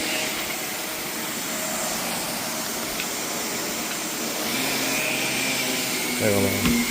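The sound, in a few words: vacuum cleaner running while cleaning carpet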